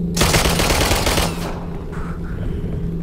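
Video game gunfire from a pump shotgun in Nether bursts out as a loud, dense rattle of close shots for about a second, then cuts off into a lower background rumble.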